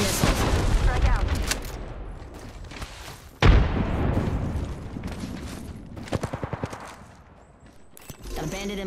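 Missile swarm explosions and gunfire from Apex Legends Season 9 hit in loud rapid bursts, with one heavy boom partway through and a volley of sharp shots, under game voice callouts.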